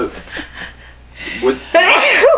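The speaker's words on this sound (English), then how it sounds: "But I'm going to sneeze." A person sneezes abruptly near the close, a loud sharp burst following a drawn-in breath, with conversational speech heard before it.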